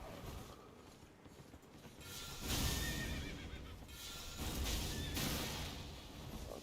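A horse in a video game whinnies twice, fairly faint, with bursts a few seconds apart over quiet game background noise.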